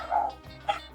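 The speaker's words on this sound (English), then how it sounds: "They're barking." A pet dog named Deco gives two short, close barks with a yip-like edge, separated by a brief pause indoors.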